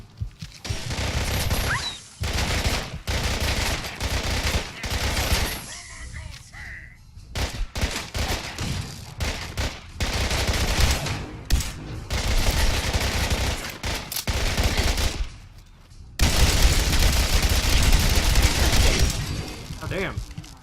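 Gunfire in Fallout 4, loud bursts of rapid shots and heavy volleys that start and stop across the stretch, broken by short pauses and clanks, with someone talking at times over the shooting.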